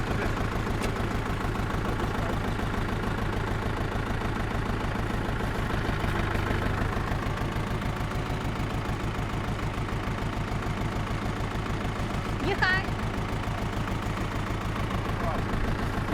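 A Dongfeng 404 tractor engine runs steadily at idle for the whole stretch, a close, constant low diesel chug with even rhythm and no pauses.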